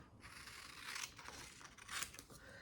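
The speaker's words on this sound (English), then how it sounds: "I'm going to cut this part off" Scissors snip through a paper craft piece at a dining-room table, two quiet crisp cutting strokes with a faint scrape between them, close and alone without speech.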